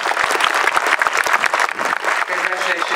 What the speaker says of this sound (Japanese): 最後にどうぞもう一度選手に温かい拍手をお送りください。